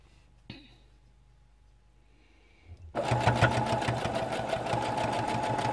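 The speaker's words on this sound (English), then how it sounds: "I'll show you when I get done sewing" After a quiet pause with a small click, a sewing machine starts up and runs steadily and fairly loudly with a rapid, even mechanical rattle as it stitches a gusset into a shirt.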